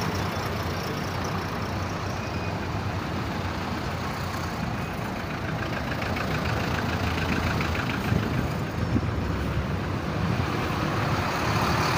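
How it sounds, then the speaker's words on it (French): Steady, dense road traffic at the Akwaba interchange in Abidjan, with trucks and buses rumbling by amid a continuous engine drone that swells slightly toward the end, no voices. "Il y a pas mal de véhicules, hein. Vous voyez, il y a assez de véhicules"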